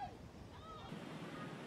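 Pacific Ocean surf crashing and rushing along a shore after a storm, a steady loud roar of breaking water with wind buffeting, no voices.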